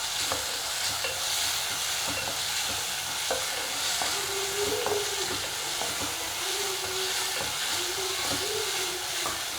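Steady hissing sizzle of masala frying in a pan, with occasional scraping stirs and small pops, close and continuous.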